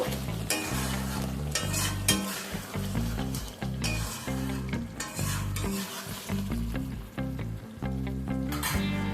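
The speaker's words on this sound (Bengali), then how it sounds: "আর দিচ্ছি 1 চামচের মতো সর্ষের তেল, কাঁচা সর্ষের তেল। একবার মিশিয়ে নেব।" Raw mustard oil being mixed into ridge gourd and potato posto frying in a pan, with loud repeated stirring scrapes in an uneven rhythm over a constant sizzle.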